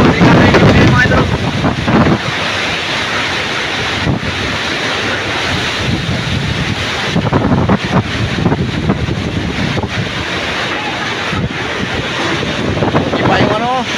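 Strong Typhoon Tino winds batter an island, a loud continuous roar of gusting wind buffeting the microphone, with crashing surf beneath and surges in force throughout.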